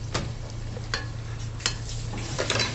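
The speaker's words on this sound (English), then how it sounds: "The last step is to put the pasta with everything." Cooked pasta gets stirred and tossed with everything else in a pan, several sharp scrapes and knocks standing out over a faint, steady low background.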